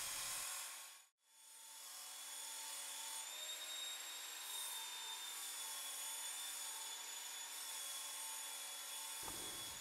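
A handheld belt grinder with a P120 coarse grit belt runs at a speed setting around 6, sharpening a knife edge; a steady high whine and abrasive rasp sound up close, with a brief dip near the start and a sudden stop at the end.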